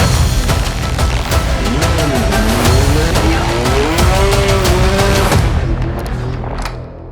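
Loud race car engine roaring with tires squealing and skidding as a Hyundai race car goes off track into the barriers, the pitch rising and falling before the noise fades slightly at the end.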